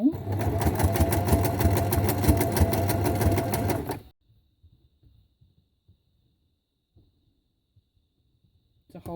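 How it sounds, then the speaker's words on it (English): A sewing machine stitches scrap fabric in a loud, fast, even rattle that lasts about four seconds and then stops. Faint handling noises follow in near silence before the machine briefly starts up again at the very end. "let me just sew a bit more"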